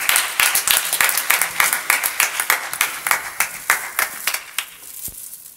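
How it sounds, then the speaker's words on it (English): A church congregation claps in praise, producing a steady run of sharp, rhythmic hand claps in a regular beat that fades toward the end. "Give God a hand clap of praise"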